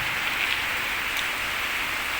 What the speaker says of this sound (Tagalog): Maagang ulan ano.